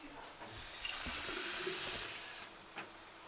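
Water pours into a bottle holding thick tomato puree for a vegetable lasagna, a steady airy rushing fill lasting about two seconds, close and fairly soft, then cutting off with a brief clink after.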